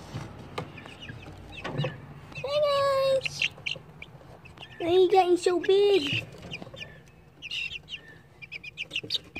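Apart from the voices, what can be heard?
chickens clucking in their pen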